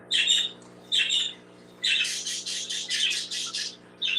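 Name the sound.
pet birds squawking in the room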